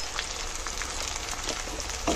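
Spices of turmeric, coriander and chili powder with salt sizzle steadily while frying in a pan, a continuous close crackling hiss that holds level throughout.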